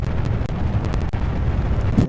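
Rocket with solid rocket boosters launching in Kerbal Space Program, a loud continuous roaring rumble with crackling texture and a few sharp pops, sustained for the whole clip.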